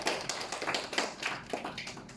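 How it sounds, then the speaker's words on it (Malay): Applause for the teachers of SK Pari 4 at a school speech event: dense, continuous hand clapping from a crowd, steady and fairly loud across the whole stretch with no voices. "Bagi tepukan kepada semua guru-guru di SK Pari 4."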